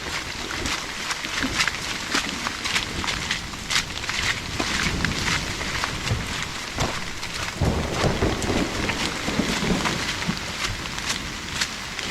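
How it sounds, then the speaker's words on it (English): Heavy rain pours down steadily during a thunderstorm at a flooded campsite among rocks, a dense, loud, continuous hiss with crackling drops throughout. "I know it's raining rather hard"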